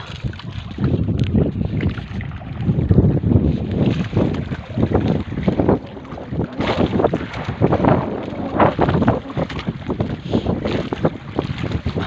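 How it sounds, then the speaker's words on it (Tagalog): Strong sea wind roars across the microphone of a small boat drifting offshore, loud gusty buffeting that surges and eases in waves for the whole stretch, with faint splashing of water beneath. "Lakas ng hangin"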